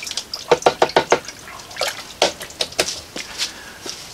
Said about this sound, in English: I rinse my brush in some water.